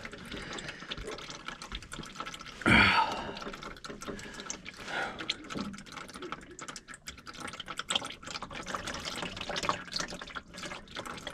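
Engine oil draining from a car's drain during an oil change, a steady trickle and drip into a pan with a louder clunk near the start.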